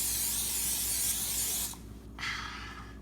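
A close, sustained spray hisses for over a second, pauses briefly, then a second shorter spray follows.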